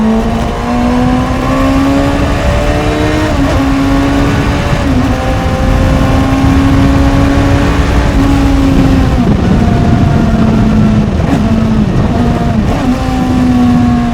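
A Honda CBR600RR motorcycle engine hums steadily throughout a night ride, with a strong continuous drone that rises and dips in pitch through several gear changes and throttle shifts, loud and close to the rider.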